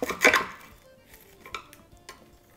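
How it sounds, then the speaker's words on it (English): A serrated knife saws through crispy phyllo pastry on an apple strudel, giving a loud crunchy crackle at the start and then a few fainter crisp crunches spaced apart, with no talking. "it is best to cut into this with a serrated knife because phyllo crumbles and it's really crispy"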